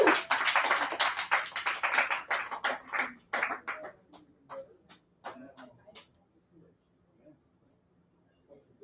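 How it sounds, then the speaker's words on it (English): Audience applause greets a comedian walking onstage at an evening variety show, a dense burst of clapping that thins into scattered individual claps and dies away by about six seconds. "Give him a round of applause."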